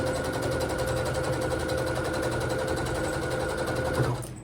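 A sewing machine with a thread cutter runs steadily and close by for about four seconds, a continuous whirring drone that cuts off at the end, while piecing a quilt block.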